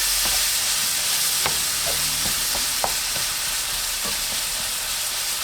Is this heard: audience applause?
no